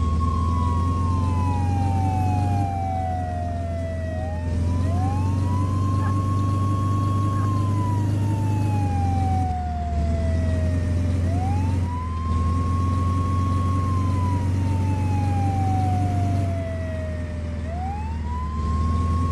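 A game ambulance from Flashing Lights blares its siren continuously, repeated rising-and-falling wails cycling every few seconds over a steady low vehicle drone, loud and close throughout.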